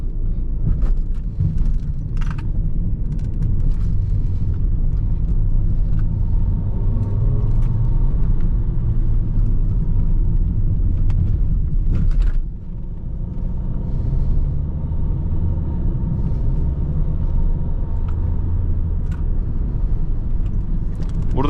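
A Renault Megane 4 with the 1.5 dCi diesel engine takes gentle curves on a long road trip, heard from the cabin as a steady, loud, low rumble of engine and road noise throughout, with no talking.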